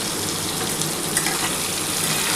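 Papaya, carrot and green banana pieces frying in oil in a pan, a dense, even sizzling hiss held at close range throughout.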